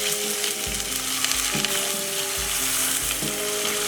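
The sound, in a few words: onion frying in oil with bay leaf and garam masala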